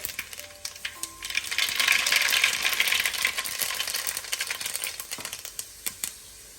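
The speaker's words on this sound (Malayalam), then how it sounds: "എണ്ണ ചൂടായി കടുകിടാൻ പോവുകയാണ്." Mustard seeds spluttering and popping in hot oil while a fish pickle is being made, a dense crackle of sharp pops that swells and then thins to scattered bursts.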